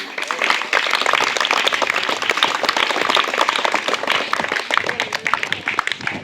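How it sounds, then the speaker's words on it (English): Loud, close clapping from an audience of students at a Children's Day celebration speech, a dense burst of sharp claps lasting several seconds. "With your big claps, my dear"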